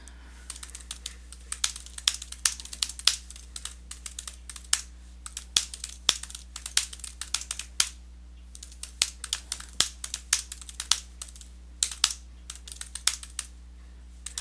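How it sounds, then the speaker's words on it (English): Rapid, steady typing on a computer keyboard while writing a paper in a OneDrive document, with close, crisp key clicks in irregular bursts and no talking. "let me type a bit more here"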